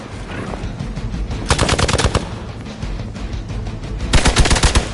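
Loud bursts of rapid automatic gunfire crackle in two main volleys with scattered shots between, close and harsh over a dense noisy background.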